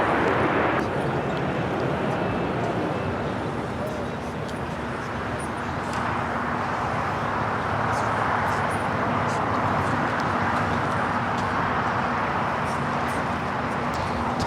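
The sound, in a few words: Airbus A330 cargo plane taking off at LAX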